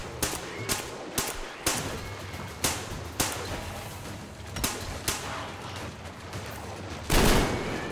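Gunshots in the video game Metro Exodus: a series of sharp, loud single shots spaced irregularly about half a second to a second apart, with a heavier blast near the end, no talking.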